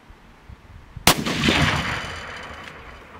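A single loud rifle shot cracks out during target practice after a barrel change, its sharp report followed by a long echoing rumble that slowly fades, with no talking.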